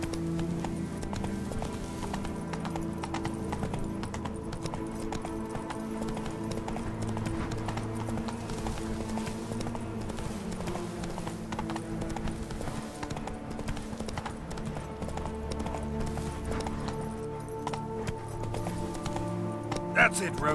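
Roach, the horse in The Witcher 3 video game, gallops with steady, continuous hoof clopping beneath a voice and background game music throughout.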